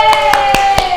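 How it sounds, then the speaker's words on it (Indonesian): An audience applauds a presenting group in a classroom setting. A short burst of four distinct hand claps sounds close and loud. "beri tepuk tangan untuk kelompoknya Mbak Okti."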